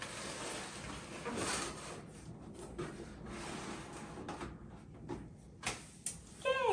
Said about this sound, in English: Let's go ahead and move it into place.